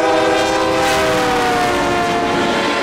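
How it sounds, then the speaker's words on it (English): A train barrels down the tracks at a crossing, a loud, continuous rumble with sustained horn tones sounding close throughout. "the train came barreling down the tracks"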